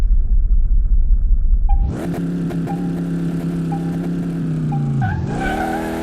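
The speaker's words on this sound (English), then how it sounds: "We are driving in Daytona." A stock car engine in Car Mechanic Simulator 2018 at Daytona roars up from a low rumble into a loud sustained revving drone, pitch dipping briefly before climbing again, heard up close with no talk.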